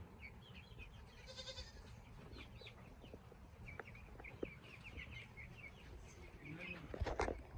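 Baby chicks cheep and cluck faintly in scattered calls over a noisy farm background, with a brief louder burst near the end.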